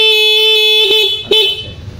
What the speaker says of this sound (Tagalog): Stock ang busina, ha. Wala namang loud horn.